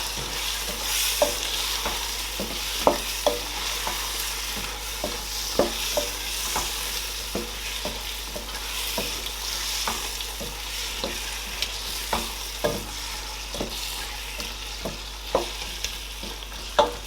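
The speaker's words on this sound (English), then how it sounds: "So now I'm going to mix everything together." Vegetable stew with plantain being stirred in a pot for a Nigerian meatless stew, a steady soft sizzle broken by repeated spoon scrapes and clacks against the pot, close and alone with no voices.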